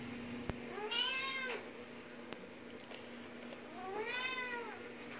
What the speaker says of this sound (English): I'm not going to be able to get past her without her meowing like a maniac.